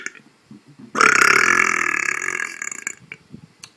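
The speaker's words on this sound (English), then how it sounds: "I'm going to make a burp just using air." A burp produced by swallowing air, one long loud belch lasting over a second, preceded and followed by quieter mouth noises and breaths.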